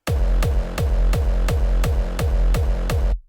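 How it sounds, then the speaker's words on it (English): Unprocessed hardstyle kick layered over a second kick and a separate sub bass, for UK hardcore or hard dance, pounding in eight loud, evenly spaced hits with long booming low tails that smear together, then stopping abruptly. "Because it's a hardstyle kick overlapping with another kick and a different sub."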